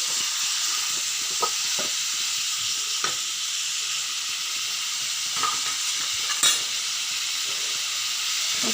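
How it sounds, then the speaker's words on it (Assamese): Potatoes and chicken frying in hot oil in a pan, a constant bright sizzle with occasional scrapes and clicks of a spoon stirring, close and steady. "এনেই গৰম তেলতে অকণমান লাৰি দিব লাগে"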